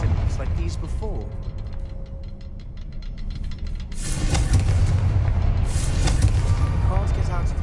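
A Confringo fire spell bursts in Hogwarts Legacy, a sudden loud whooshing blast midway that swells into a sustained roar and crackle, following quieter mechanical ticking and game sounds, with a voice calling out over it.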